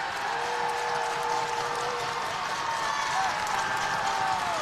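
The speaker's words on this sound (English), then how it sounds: "Crowd encourages the Madison Central defense." A basketball crowd at a regional high school quarterfinal between Douglass and Madison Central keeps up a steady roar of cheering and shouting in a gym, sustained and fairly loud throughout, with a faint whistle-like tone drifting through.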